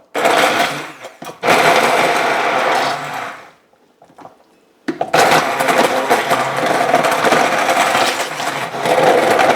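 An electric blender mixes avocado chocolate mousse in a kitchen. It gives loud whirring bursts: a short run, a brief stop, then a long steady run after a near-silent pause of about a second.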